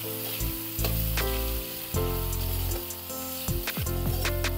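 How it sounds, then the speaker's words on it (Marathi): Mixed vegetables sautéing in oil with goda masala and salt for a traditional Makar Sankranti bhogi dish, a loud continuous sizzle with spoon scrapes and stirring clatter breaking through at intervals. "आता परत हे व्यवस्थित परतून घेऊ"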